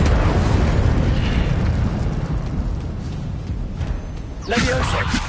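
Incendio fire spell cast in the game Hogwarts Legacy: a sudden whooshing, crackling burst of flame after a stretch of rumbling combat noise, loud and close, with a voice speaking nearby.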